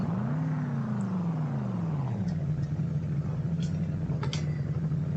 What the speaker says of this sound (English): we will go ahead and start her up here, and you'll notice that the engine sound in this truck is quite different